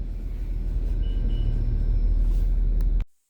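Steady low rumble of a Northern Class 195 train in motion heading into Manchester Piccadilly, a continuous loud drone with faint higher whines, cutting off abruptly near the end.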